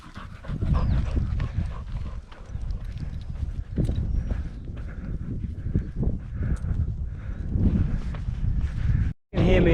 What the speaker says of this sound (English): You can hear me over Charlie's panting